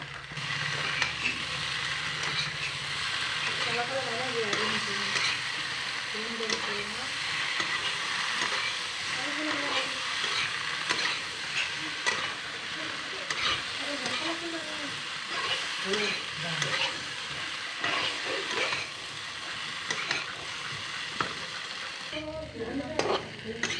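Ginger, garlic, cumin and black pepper sizzle in a pan while a spoon stirs and scrapes them, with steady frying hiss and rhythmic scraping up close and a faint voice now and then underneath.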